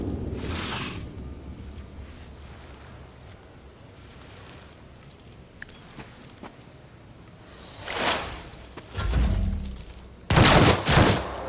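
Gunfire bursts from the video game Warhammer 40K Rogue Trader, a few loud sharp volleys spaced out over quieter game ambience.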